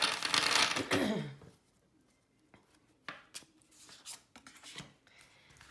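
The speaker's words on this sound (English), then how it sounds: "The deck shuffles like butter." An oracle card deck shuffled up close: a long loud riffling sweep, then a series of softer slides and taps of cards.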